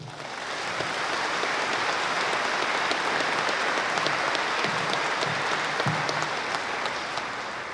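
Steady, sustained applause from a commencement audience welcoming the speaker, a broad crowd clapping evenly for several seconds at moderate distance.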